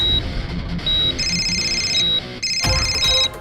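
A phone rings with a steady electronic ringtone, repeated trilling tones that stop and start in a regular pattern, loud and close.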